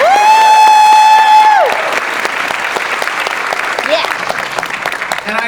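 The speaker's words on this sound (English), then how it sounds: "let's have a round of applause for everybody on our team" Loud audience applause with some cheering at a Dark Harbor panel event at the Queen Mary, thick steady clapping that starts under a sustained whistle-like tone and continues with scattered shouts.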